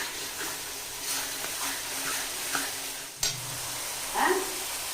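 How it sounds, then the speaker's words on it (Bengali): Masala for Bengali chicken kosha cooked down with a little water and stirred in a pan, giving a soft steady sizzle with occasional scraping strokes and a louder scrape near the end. "দেখুন, অল্প জল দিয়ে মশলাটা খুব ভালো করে কষিয়ে নিয়েছি।"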